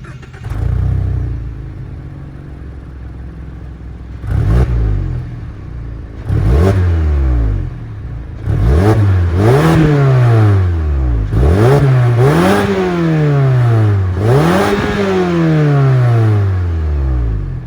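A 2022 Mazda 3 hatchback's 2.5-liter dual overhead cam four-cylinder engine revs repeatedly, climbing and falling in quick bursts after a start, loud and close with short pauses between.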